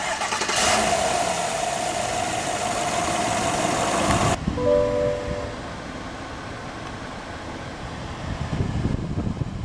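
A 2024 Chevrolet Silverado 1500 LT Z71 Double Cab pickup with the 5.3-liter V8 cranks and fires, a loud, dense burst of engine noise lasting about four seconds before dropping to a steadier, quieter idle with a faint tonal whine; no talking.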